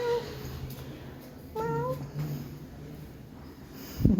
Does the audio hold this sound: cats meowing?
yes